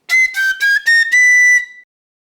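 A cheap piccolo plays a flat C natural in five short tones, the first four separated by brief gaps and the last held longer, the pitch sliding slightly upward, loud and close with no talking.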